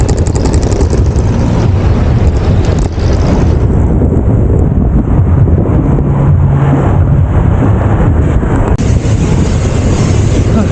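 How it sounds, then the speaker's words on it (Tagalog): Strong headwind roars and buffets across the microphone throughout a road bicycle ride toward Tagaytay, a loud, constant low rumble with no clear pauses. "Sobrang lakas ang hangin."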